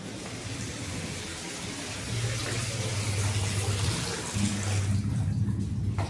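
A tap left running in a home bathroom gushes steadily into a basin or bucket, a loud continuous splash with a low hum rising and falling beneath it.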